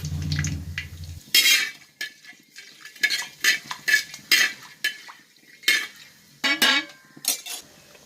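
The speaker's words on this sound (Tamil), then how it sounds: "நெய்யும் தேங்காயும் சேர்ந்தா ஊற்றிருக்கேன். பட்டை, சோம்பு, ஏலக்காய் வதங்கிட்டு இருக்கு" A spoon clatters and scrapes against a pan in uneven bursts as cinnamon, fennel and cardamom fry in ghee and coconut oil, with a faint sizzle underneath and no talking.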